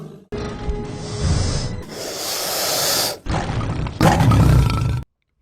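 Cinematic bear roar sound effect: several loud, close, throaty roars and snorting growls in separate bursts, with harsh breathy texture, ending abruptly in silence.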